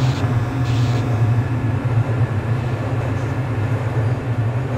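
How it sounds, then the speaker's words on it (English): An automated transit train in Project Lambda, a Half-Life game, runs with a steady, loud low rumble and constant mechanical drone, close and unbroken, with no talking over it. "This automated train is provided for the security and convenience of the Black Mesa Research"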